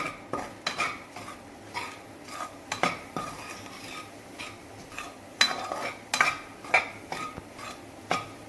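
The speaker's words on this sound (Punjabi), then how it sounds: "ਮਸਾਲਿਆਂ ਨੂੰ ਹੁਣ ਆਪਾਂ ਮਿਕਸ ਕਰ ਦਾਂਗੇ" A spoon stirs ground spices, coriander powder and turmeric, into a soybean nutri paratha filling, giving repeated scraping clinks of metal against a bowl in an irregular rhythm, close by with no voices.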